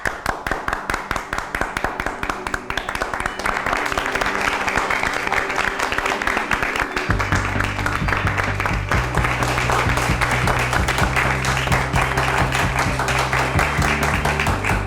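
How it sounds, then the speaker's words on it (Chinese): An audience claps in sustained, steady applause that lasts the whole stretch, thickening partway through as a low musical drone comes in underneath. "用掌声来支持。"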